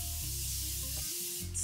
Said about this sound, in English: spray that onto my face